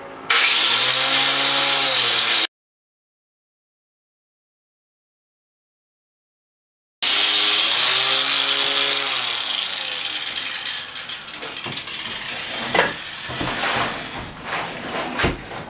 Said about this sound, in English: that was with the angle grinder